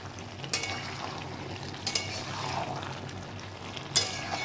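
A spoon stirs mixed winter vegetable curry with ghee in a pan, giving soft scraping and gentle sizzling broken by three sharp metallic clinks against the pan's side.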